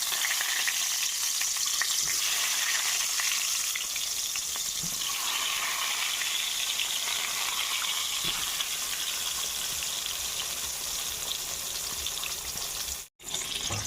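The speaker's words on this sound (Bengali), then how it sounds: "এবারে ঠিক একইভাবে বাকি বেগুনগুলো ভেজে নেব।" Eggplant slices frying in a little oil, a continuous close, dense sizzle throughout with faint stirring and a brief cut near the end.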